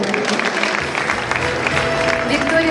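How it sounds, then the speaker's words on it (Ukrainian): A room of people claps steadily at a charity awards event, a dense patter of many hands at moderate distance, with a voice briefly audible over it. "Ваші оплески."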